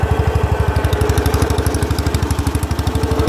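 A tractor engine runs while pulling an offset drag, its fast, even low thumping pulses loud and close, chugging steadily with no one speaking over it.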